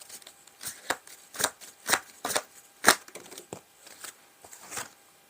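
Tarot cards are shuffled by hand in a series of about a dozen crisp riffles and slaps, close and clear, irregularly spaced, with no talking.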